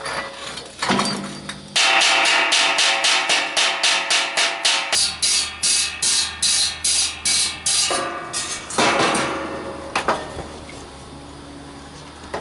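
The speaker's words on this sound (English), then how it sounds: "So what you have to do is just hit it with the picker." Welding slag chipped off metal with a picker during box fabrication: a fast run of about twenty sharp metallic taps, loud and close, followed by a few scattered strikes, with no talking.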